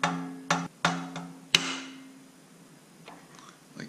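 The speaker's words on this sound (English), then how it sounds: "you get a hammer and very gently tap the valve there to get it to go back down in" Hammer gently tapping a valve back down in a Ford Flathead V8 engine during teardown: four light, sharp metallic taps in quick succession, close up, followed by quiet ringing and faint shop noise.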